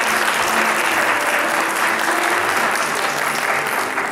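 Wedding guests at a hotel ceremony clap together after the vows, a thick, continuous round of applause that stays loud and steady before easing slightly at the end.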